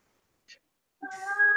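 A house cat gives a single drawn-out meow, fairly loud and close, preceded by a brief faint click, with no one talking.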